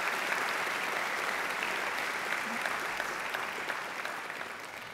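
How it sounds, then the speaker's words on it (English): Steady, dense applause from a large audience at a university graduation ceremony fills the whole stretch, slowly tapering slightly toward the end. "Give them a great round of applause,"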